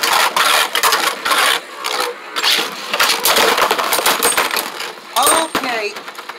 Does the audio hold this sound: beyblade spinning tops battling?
yes